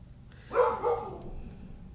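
A dog gives one short bark, maybe a double yip, at moderate distance against a low background hum.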